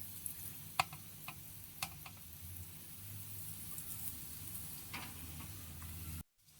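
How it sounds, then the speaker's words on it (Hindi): Spiced potato pieces fry in hot oil in a pan, giving a soft continuous sizzle with scattered ticks and clinks of stirring, quiet and close, ending abruptly. "इस तरह से एक पैन में हमने ऑयल गर्म कर लिया है और इसको फ्राई करेंगे।"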